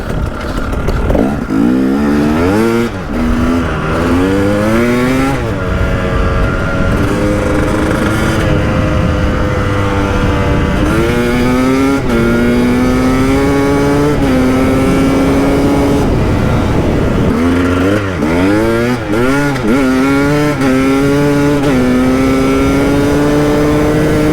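A KTM 300 EXC two-stroke dirt bike fitted with an FMF Powercore 2 silencer rides along a road, loud and close, its engine repeatedly revving up through rising pitch sweeps and dropping back as it shifts.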